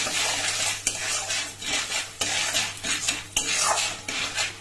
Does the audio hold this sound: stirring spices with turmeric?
yes